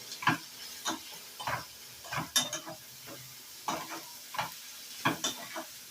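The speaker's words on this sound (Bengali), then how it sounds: "সব মশলাগুলোকে একসঙ্গে একটু ভালো করে কষিয়ে নেব" Spices, salt and tomato frying in oil for a pomfret curry, a soft sizzle broken by repeated scraping stirs of a spoon in the pan, close and alone.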